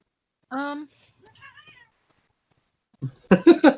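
A pet cat meows close by, a single clear meow followed by a couple of softer chirps, with a person speaking briefly afterward.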